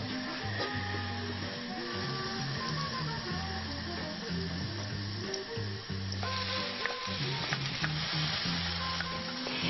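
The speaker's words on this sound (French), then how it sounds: "Allez, hop, je vais les faire dorer." Flour-coated chicken cubes browning in a pan, a steady close sizzle and crackle that runs throughout with faint scraping stir sounds and no voices.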